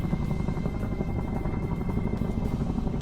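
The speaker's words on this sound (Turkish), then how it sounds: "Vay anasını tepemde helikopter geziyor şu an." A steady, heavy rotor drone fills the air, a military helicopter passing overhead with a constant low thrum and no voices.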